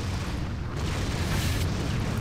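Explosions of robot units in the real-time strategy game Empire Earth, a steady low booming rumble that continues through the clip with no voices.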